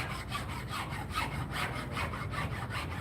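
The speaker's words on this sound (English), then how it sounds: "we go with the rasp end of it" A wooden fireplace countertop being worked with a rasp, giving rhythmic back-and-forth scraping strokes, close and fairly soft, repeating steadily with no talking.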